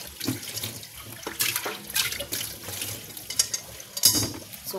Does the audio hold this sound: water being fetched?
yes